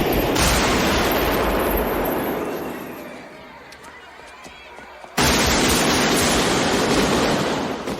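Gunfire in the Heat shootout film scene, a dense roar of heavy shots that fades for a couple of seconds and then bursts back in loud and sustained.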